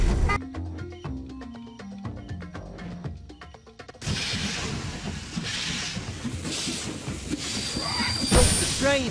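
Toy train sound effects from a dinosaur park train race game for kids, with musical jingles giving way to a steady chugging, hissing rail noise under cartoonish voices.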